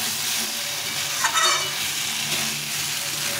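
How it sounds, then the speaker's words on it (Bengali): Fresh local tomatoes fry and soften in a pan for a fish curry, giving a steady close sizzle and hiss throughout with a brief louder stir in the middle and no talk. "এভাবে করে ভালো করে ভেজে নিতে হবে।"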